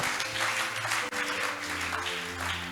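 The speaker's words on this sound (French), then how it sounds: "Acclame pour le Seigneur Jésus" A church congregation at a revival service claps in steady, sustained applause, with musical tones ringing underneath the whole time.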